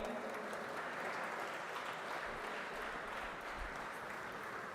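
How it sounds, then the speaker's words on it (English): A large audience applauds at a student parliament clarion call event, steady dense clapping filling the whole stretch at moderate level. "A big round of applause once again"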